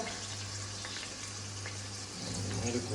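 Ginger garlic paste fries for a Jabar Bhai style mutton biryani as a soft, continuous sizzle. It stays fairly quiet and even, with a low hum underneath and slight stirring toward the end.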